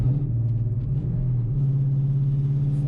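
Steady, loud low rumble of a 2000 Mustang GT V8 with about 300 wheel horsepower while driving, holding an even drone throughout with slight pitch shifts and no talking.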